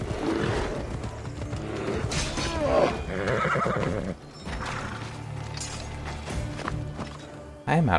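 A horse in Assassin's Creed Odyssey whinnies loudly, with clip-clopping hooves, game effects and music around it, while someone talks over part of it.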